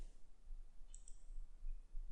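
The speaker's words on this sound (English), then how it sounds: "Now click on save" A computer mouse gives two quick, faint clicks close together, isolated against a quiet room background, followed by silence.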